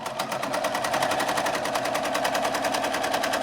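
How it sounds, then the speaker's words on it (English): A sewing machine runs a French seam on a pillowcase, a fast, even mechanical rattle of needle strokes, close and loud, with no pauses. "So we're going to sew just a little bit more than 1/4 inch because I want to catch all of that seam in that for my French seam"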